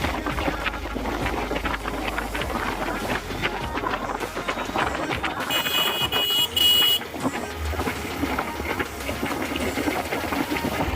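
A motorcycle engine runs steadily near the Arwah Cave entrance in Meghalaya, a close, constant broadband rumble with a brief hissing burst partway through and no talking.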